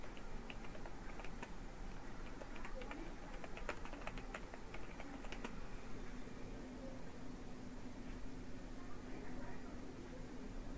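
Keys clatter on a computer keyboard as text is typed during a shape-editing lesson, a faint run of quick uneven taps over steady background hiss.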